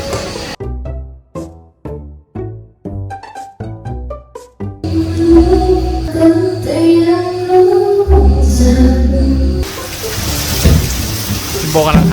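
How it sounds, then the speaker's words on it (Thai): After a few seconds of choppy voices and tones, a steady broad hiss of heavy rainfall at a pool villa in Hua Hin, Thailand takes over, with people talking over the downpour. "ฝนตกครับวันนี้"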